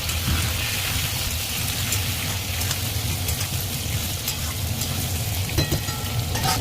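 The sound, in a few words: eggplant, pumpkin and potato frying in a pan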